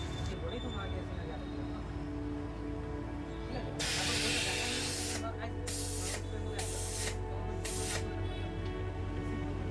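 A kids' inflatable bathtub being filled with air gives loud hissing bursts of air, one long blast followed by several shorter pulses. They play over steady low background noise, and a voice speaks at times.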